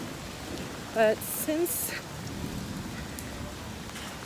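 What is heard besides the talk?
thunderstorm with heavy rain in Jerusalem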